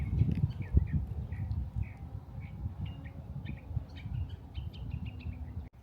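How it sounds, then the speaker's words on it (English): Small birds chirp and tweet intermittently in a military section of an Orlando, Florida cemetery, faint and scattered over a low outdoor rumble. "A lot of birds out here."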